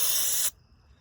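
A loud, steady hiss of aerosol carburetor cleaner sprayed into a Ryobi 2300 carburetor for about half a second, cut off abruptly, leaving quiet room noise.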